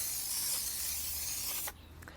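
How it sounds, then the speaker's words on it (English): A trigger-spray bottle of all-purpose cleaner soap mix hisses in one long, close spray onto a car wheel and tire, then cuts off, leaving brief faint rustling. "We can come back in with our all-purpose cleaner soap mix. Just give this a spray around the wheel and tire."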